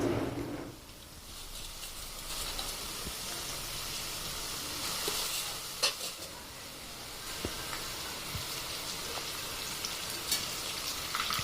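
Wheat flour snack pieces deep-fry in oil in a pan, giving a steady, soft, continuous sizzling hiss with a few faint pops and crackles throughout, no talking.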